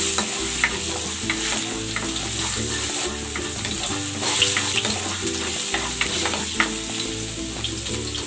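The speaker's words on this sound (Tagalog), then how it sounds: "Igigisa ko na tong luya." Ginger sautéing in hot cooking oil, a loud, continuous close sizzle with scattered pops and stirring scrapes over a low hum, no voices present.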